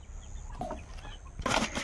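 In a coop, chickens let out a few short clucks and squawks at close range, the loudest burst coming near the end over a quiet background.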